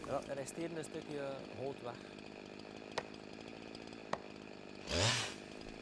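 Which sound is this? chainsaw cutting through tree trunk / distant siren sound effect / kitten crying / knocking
chainsaw cutting through tree trunk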